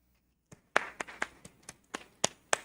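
An audience applauds panelists at an electoral tribunal public forum in a hall, a scatter of separate, fairly faint claps and short bursts over nearly three seconds rather than a full ovation.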